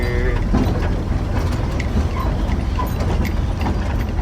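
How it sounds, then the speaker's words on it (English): A Ford Ranger pickup truck rattling and clattering as it drives, a dense, steady mechanical racket of loose metal knocks and rumbling that runs throughout, close and loud, with no talking. "The rest of the truck sounds crazy."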